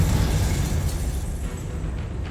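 A steady roaring blast from the Confringo spell in Hogwarts Legacy, loud and continuous with a dense low rumble sustained throughout.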